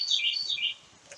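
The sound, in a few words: bird chirping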